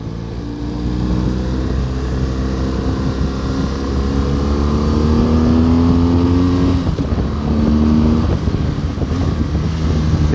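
BMW R1200 GS Adventure motorcycle engine droning steadily while riding, its pitch rising and then dropping through a double-clutch downshift, loud and close under heavy wind rush.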